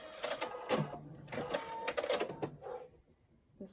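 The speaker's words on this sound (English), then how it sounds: "we'll sew these on" Sewing machine stitching scrappy pumpkin quilt block pieces along a diagonal seam, in short bursts of rapid needle chatter separated by brief pauses, close and moderately loud.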